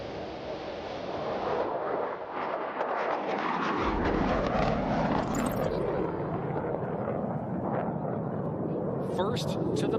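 F-16 Fighting Falcon jets of an aggressor squadron roll for takeoff at an air show, and a deep, swelling roar builds and holds loud in the distance while an announcer talks over it.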